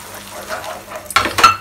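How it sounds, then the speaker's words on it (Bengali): Ginger, garlic and green chili paste frying with softened tomato in a pan, with quiet sizzling that gives way to two louder bursts of utensil scraping and stirring near the end. "এটাকেও একটু ভাজবো দু মিনিট আদা রসুন কাঁচা লঙ্কা পেস্টটা দেওয়ার পর"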